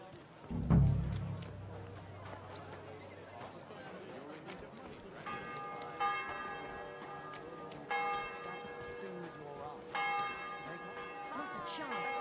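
Church bell tolling in Kingdom Come Deliverance 2, a medieval-village game setting, with several separate bright, ringing strikes at steady intervals, each decaying slowly, over soft distant chatter and ambient noise after a low thump at the start.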